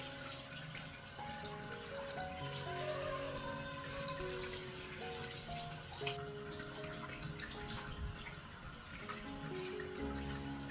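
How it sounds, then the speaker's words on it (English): Tap water runs steadily from a faucet while glasses are rinsed, a continuous gentle splashing flow throughout with music-like tones layered over it. "First, turn on the water a little gently."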